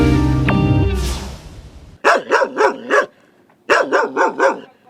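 Dogs at a homeless animal shelter bark loudly and close. Two rapid bursts of four or five barks each follow an opening stretch of metallic clanging and noise.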